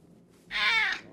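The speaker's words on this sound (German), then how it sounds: "Ach, da ist das Kätzchen." A kitten meows once in the New York Mysteries game. The cry is brief, bright and rising, and stands alone over a quiet background.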